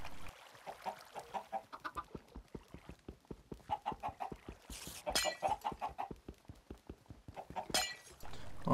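Chickens cluck in a video game chicken farm, a busy run of short, rhythmic clucks and squawks with a couple of louder bursts, close and fairly loud.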